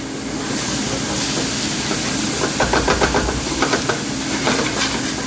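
Chicken pieces frying in a pot for chicken fried rice, a constant loud hiss and sizzle with soft crackling pops, nearby and without speech.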